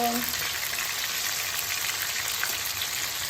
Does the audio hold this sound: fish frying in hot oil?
yes